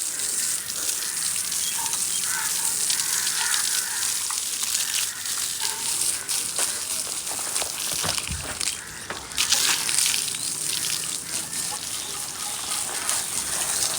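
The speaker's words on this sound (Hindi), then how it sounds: "अब जो है ना अपने सेप्टिक टैंक को पानी लगाते हैं।" Water gushing steadily from a hose or pipe onto a newly built concrete septic tank, a continuous broadband splashing and hissing that stays loud and even throughout.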